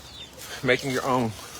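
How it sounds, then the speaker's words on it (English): Hens on an urban farm give a short burst of clucking, a couple of throaty calls close by over quiet background noise. "And here I've got some hens."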